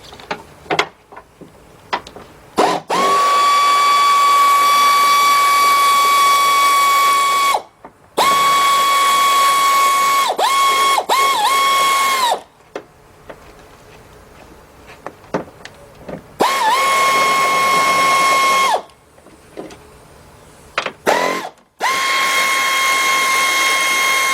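Power tool whirs and ratchets in long loud bursts while bolts come out of a 2003 Jeep Liberty 3.7 engine during a partial rebuild, with short clanks and pauses between runs.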